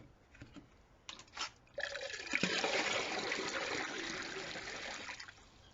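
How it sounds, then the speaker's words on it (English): Water runs steadily into a bucket after a few clicks and splashes, a continuous rushing pour that holds for several seconds before easing off, heard alone without talk. "So I'm going to fill the bucket up as full as it'll get."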